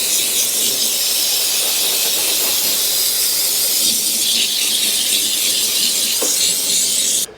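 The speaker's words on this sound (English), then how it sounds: "We're gonna move over here to the engine and steam clean it." Steady, loud hiss of a steam cleaner blasting the engine of a 1982 Honda CX500 Turbo motorcycle, continuous broadband rush throughout with no talk, cutting off abruptly at the very end.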